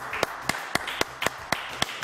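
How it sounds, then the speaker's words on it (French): Studio audience clapping on a French entertainment news show, heard as a sparse, regular series of distinct sharp claps at a steady rhythm, close and moderately loud, with a faint murmur underneath. "On l'applaudit très très fort"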